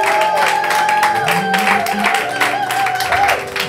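A church congregation applauds during French-language worship, a steady wash of clapping beneath ongoing singing and music that holds throughout.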